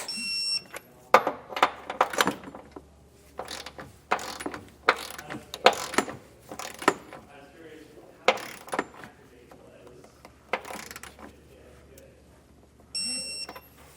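A torque wrench ratchets on bolts while a Class III trailer hitch receiver is fitted to a 2015 Dodge Durango, producing close bursts of sharp clicking separated by pauses, with a voice briefly heard.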